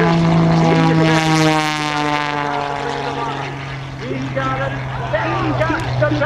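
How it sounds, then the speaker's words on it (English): Skip Stewart's aerobatic propeller airplane roars loudly at an airshow as it rolls upside down, its engine drone shifting in pitch as it passes, with an announcer talking over it. "He'll roll the airplane upside down right here."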